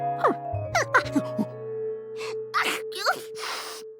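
Several vocal bursts and explosive sneezes, one after another, set against soft background music and chimes.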